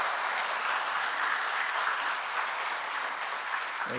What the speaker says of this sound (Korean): 우리 박수로 그분 앞에 한번 영광을 올리겠습니다